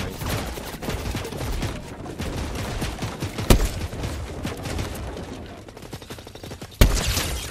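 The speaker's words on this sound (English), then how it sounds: "the guy's shooting you" Rapid gunfire in the video game Fortnite, dense rattling bursts of shots across the whole stretch with a couple of sharper, louder cracks standing out, close and busy.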